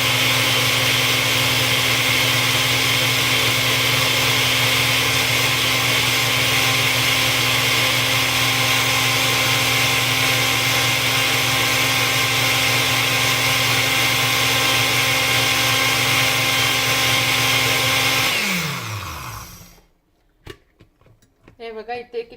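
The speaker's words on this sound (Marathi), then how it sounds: "आता पुन्हा एकदा सगळं सरमिसळ करून एकदा वाटून घेते परत." Mixer grinder blending masala paste for Malvani clam curry, a loud, steady motor whine with harsh grinding for about eighteen seconds, then winding down abruptly into a few faint clatters.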